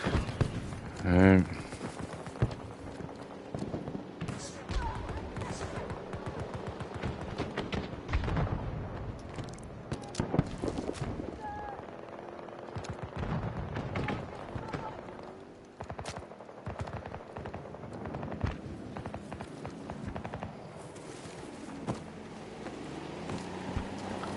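Gunfire in the Battlefield 2042 video game, with scattered shots and bursts of automatic fire amid battle noise and explosions, mostly mid-distance and intermittent, with game voices over it.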